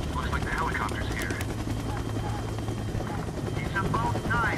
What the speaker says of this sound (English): Looks like the helicopter's here.